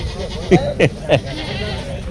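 Barbari cross goats at a livestock market bleat three times in quick succession, loud and close, while people talk in the background.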